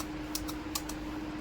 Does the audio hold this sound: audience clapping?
no